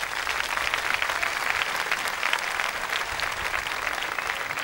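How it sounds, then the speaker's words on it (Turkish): Steady, dense applause from a studio audience at a Turkish TV show, clapping continuously at even loudness throughout without voices over it. "alkışlar mıyız?"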